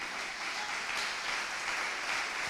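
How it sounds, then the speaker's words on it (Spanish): A church congregation at a Thursday worship meeting applauds for the Lord, a continuous, moderately distant wash of many hands clapping that stays even for the whole stretch with no clear speech over it. "Dale un aplauso al Señor."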